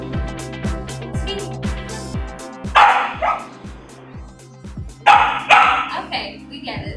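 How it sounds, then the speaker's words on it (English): A collaborative robot gives off dog-like barks in a steady repeating rhythm, with sharper, louder bark bursts standing out partway through. "The cobot's bark sure hit the mark."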